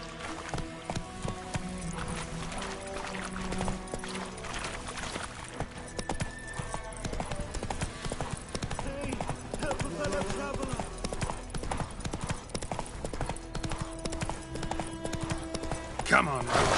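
Horse hooves clip-clop steadily in The Witcher 3, a continuous rhythmic trot under game music and a spoken voice.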